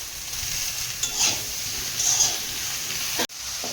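Okra and potatoes fry in a pan with a steady close sizzle, broken by a few brief stirring scrapes and a short gap near the end.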